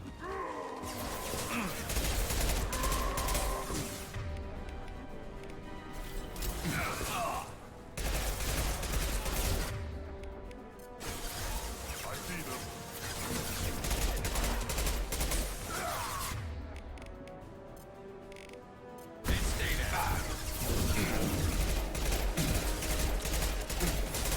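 Heavy Mass Effect 2 gunfire, dense rapid bursts of shots with brief lulls between long volleys, loud and continuous, with occasional voices mixed in.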